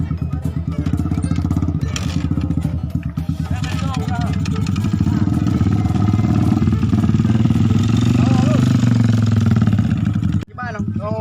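A Honda motorcycle engine idles with a steady, close mid-pitched chug that runs almost the whole time before cutting out near the end, while several people talk and shout over it.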